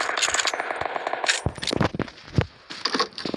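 Rapid bursts of video game gunfire rattle in quick clusters, sharp cracks and snaps repeating with short pauses between volleys.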